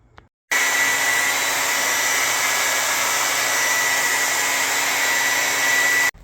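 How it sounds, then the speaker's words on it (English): Close, loud blow dryer drying a repair in a vacancy unit, switching on abruptly and running with a steady, even whoosh for about six seconds before cutting off. "I could take that blow dryer and finish it off"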